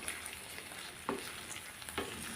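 Dried red chillies and rock salt dry-roasting in a pan for a chutney, a faint steady crackle with a few soft stirring scrapes, no voices.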